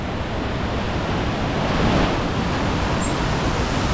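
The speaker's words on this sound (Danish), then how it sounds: "Der ryger meget vand igennem her." Powerful water rushes through small forest waterfalls at Foz do Iguaçu, a steady, loud, broadband roar that fills the whole stretch without pause.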